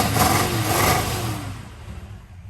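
Exhaust of a 1971 Chevrolet Camaro SS396 V8 revs up close, then the engine note falls away and settles toward a quieter idle.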